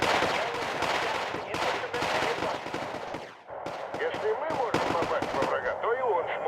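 Gunfire and artillery from the video game Wargame Airland Battle: dense, loud, rapid bursts of shots and booming blasts crowd together almost without a break, dipping briefly midway before the barrage resumes.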